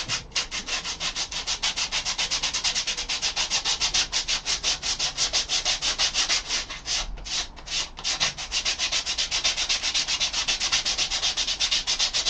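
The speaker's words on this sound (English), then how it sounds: "We're going to be using P80 grit sandpaper" P80 grit sandpaper rubbed briskly back and forth on wood for a workbench, steady rhythmic rasping strokes close up, with a brief pause mid-way.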